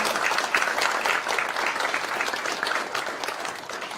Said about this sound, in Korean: 여러분 참여한 교수님께 큰 박수 부탁드립니다.